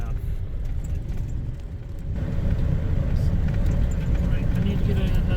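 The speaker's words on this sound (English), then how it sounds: "There's a car coming in." A car pulls in while someone talks nearby, its low engine rumble swelling and holding steady as it draws closer outdoors on a New Mexico trip.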